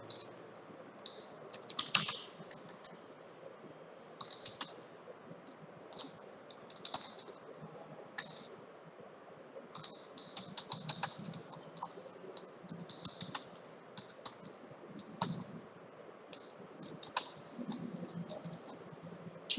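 Typing on a computer keyboard: quiet, uneven bursts of clicking keys with short pauses between runs, close and soft against a faint background hiss.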